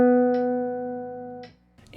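A jazz line built on a pivot tone over a 2-5 chord progression, played as sustained clean tones with a held note ringing and decaying, a new note entering, then a soft pickup at the end.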